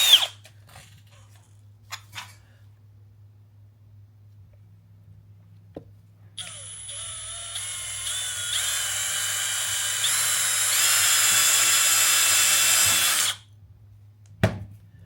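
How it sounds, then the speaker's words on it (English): A drill fitted with a 7/16 bit bores through an aluminum catch can lid, whining steadily for several seconds and rising in pitch as it cuts, with clicks and handling knocks before and after. "So what you're going to do is drill that hole"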